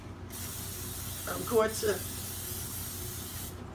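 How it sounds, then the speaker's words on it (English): Canola oil cooking spray hisses briefly into an air fryer basket, a soft near spray of about two short bursts over a steady background hum, with a voice speaking at the same moment. "And spray it down. So I got canola oil."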